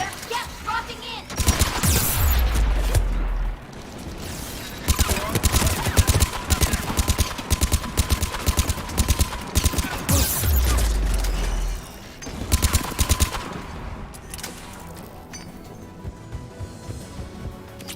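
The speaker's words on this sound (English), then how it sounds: "AA guns ahead of us." Anti-aircraft guns in the video game Mass Effect 3 fire loud rapid volleys, dense rattling bursts with deep booming thuds, pausing briefly before resuming amid a heavy battle din.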